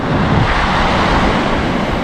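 Rough sea at Santiago Cove, stirred up by a nearby storm, gives a loud, continuous roar of surf mixed with wind buffeting the microphone, and no one speaks.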